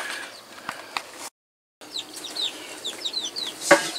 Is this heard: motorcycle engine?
no